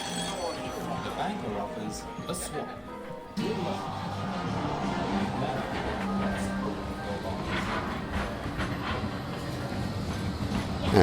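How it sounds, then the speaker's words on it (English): A modern Blackpool tram passes close by during the Illuminations at night, its steady rumbling and rail noise rising after a few seconds and running continuously amid crowd chatter and street bustle. "we're met by one of the now up-to-date Blackpool trams"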